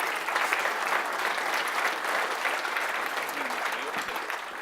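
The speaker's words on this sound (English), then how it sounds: "Give me just a little clap for Tom" An audience gives steady applause for a volunteer named Tom at a talk, a dense even patter of many hands lasting throughout at a constant level, with a voice briefly audible underneath.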